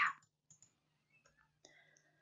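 Computer keyboard keys are pressed for a Ctrl Shift Enter combination in a spreadsheet, heard as a few soft, close clicks spaced out over a quiet background, with no talking.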